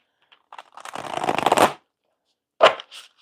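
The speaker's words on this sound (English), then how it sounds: "This is my best shuffle ever." A deck of playing cards being shuffled up close: a faint snap, then a dense riffling flutter building for about a second, followed by a short sharp bridge-like burst and a soft tail, with no voices.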